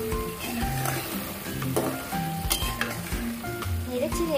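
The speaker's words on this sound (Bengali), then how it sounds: "কিছুটা টানা জিরার গুঁড়ো দিয়ে একটু নেড়ে ছেড়ে দিচ্ছি" Vegetables with small fish fry in a pan as roasted cumin powder is stirred in, giving a loud, close, continuous sizzle overlaid with frequent spoon scrapes and clinks against the pan.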